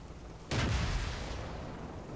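A tank cannon shot from a Matilda or Valentine in World of Tanks: one sudden loud boom at about half a second, followed by a long rumbling decay that fills the rest of the clip.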